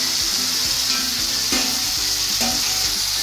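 Potato and cauliflower curry fries in a kadai with a loud, constant close sizzle, while stirring strokes knock and scrape underneath.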